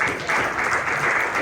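A church congregation applauds during a Spanish-language Bible study, a dense, steady wash of many hands clapping at once with no pauses across the short span.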